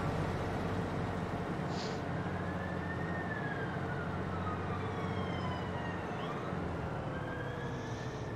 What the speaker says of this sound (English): My apologies for the sirens going by